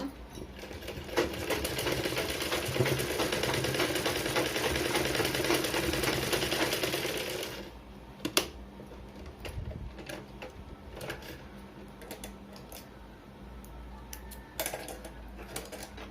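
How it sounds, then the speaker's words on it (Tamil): A sewing machine runs in a fast, continuous stitching burr for several seconds while sewing a back-open blouse, then stops, leaving quiet handling taps and clicks. "ஒவ்வொரு தையலுக்கும் 2 பேக் போட்டு போடுங்க, அப்போ தான் தையல் பிரியாமல் இருக்கும்."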